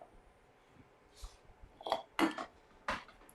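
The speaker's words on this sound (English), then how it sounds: "All right, I'm getting a different blender, which is what you're hearing all that noise." Dishes and kitchenware clatter as a blender is pulled out from storage, a few sharp clinks and knocks building to louder clanks near the end, close and without talk.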